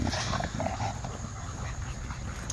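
French bulldog puppies at a playdate give faint whimpers and yips against a steady, noisy background, with no clear talking.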